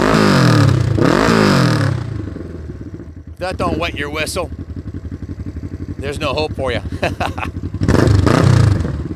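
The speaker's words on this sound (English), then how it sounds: "The engine runs like a brand new motorcycle" A 1970 Honda CL450 motorcycle engine revs hard in loud bursts, dropping to a steady idle between throttle blips, with someone talking over it.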